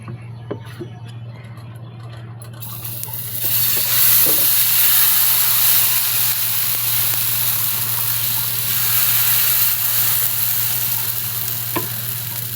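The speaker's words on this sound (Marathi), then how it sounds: "तर बॅटर घालून घेतलं तव्यामध्ये" Jowar masala dosa batter hits a hot oiled tawa: after a few quiet seconds a loud, close sizzle bursts up and holds as a steady frying hiss, with no talking.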